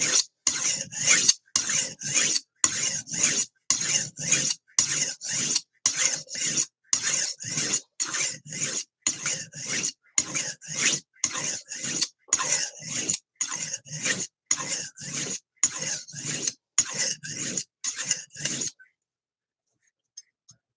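A knife is sharpened on a sharpening stone with steady, rhythmic rasping strokes, about twenty-five even back-and-forth scrapes close up, ending abruptly in silence.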